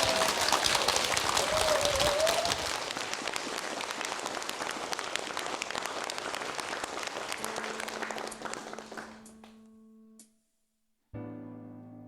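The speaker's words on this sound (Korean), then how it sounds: "박수 부탁드립니다" Loud, dense audience applause fills a hall for opera tenor Jo Yong-gap at a lecture event, then thins out, stops abruptly into a brief silence, and a low sustained tone begins as music starts.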